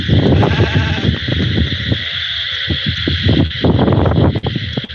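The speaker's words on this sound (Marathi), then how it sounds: "त्यांच्यापाशी तीनशे मेंढ्या आहेत" A large flock of sheep bleats continuously, many overlapping calls near and farther off, loud and dense with barely a pause.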